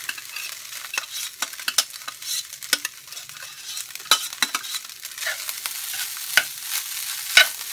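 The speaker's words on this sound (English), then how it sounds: "I'm going to add this rice and I'm going to brown it" A cup and a half of rice browning in a hot pan, with soft crackling sizzle and repeated sharp scraping stirs at an uneven rhythm, close and fairly quiet, no voices.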